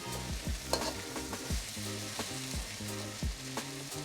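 Beef fried rice sizzles in a pan, a quiet steady hiss under a repeated rhythmic pattern of scraping and tossing strokes, with no talking.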